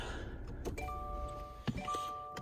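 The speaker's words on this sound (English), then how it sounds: "Typical Subaru chime." Interior warning chime of a 2021 Subaru Ascent Premium SUV, a few soft electronic tones ringing out quietly in the cabin amid small clicks and handling noises.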